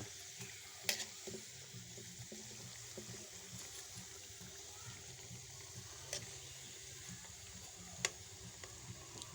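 Food stirred in a pan over a charcoal fire, a low, quiet sizzle with faint rhythmic scraping and a few sharp clicks of the utensil against the pan.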